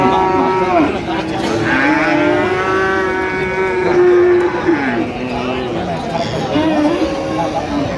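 A Sahiwal bull at a cattle market gives long, loud, close moos, one after another, over a background of crowd chatter.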